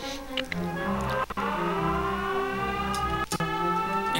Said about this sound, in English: you will have to put the key in here and bring out a siren